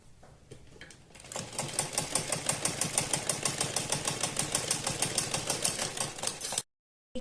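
A sewing machine runs a steady line of rapid, evenly spaced stitches, sewing the final seam along three sides of a patchwork panel on a kurti neckline. The motor is close and moderately loud, starting after a quiet second and cutting off abruptly near the end.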